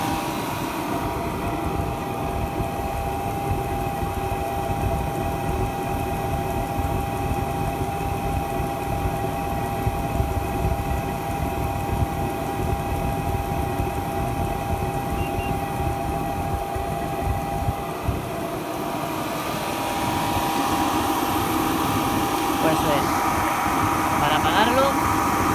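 A T-15K multifuel heater for a GRC-142B military shelter runs with a steady, loud combustion roar and mechanical hum that continues unbroken for the whole stretch.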